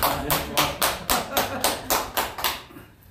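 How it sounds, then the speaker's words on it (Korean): Lecture audience at a talk on Hwang Jin-i's poetry claps in unison, about a dozen even beats in a steady rhythm, fairly close and loud, ending abruptly. "박수 한번 쳐요"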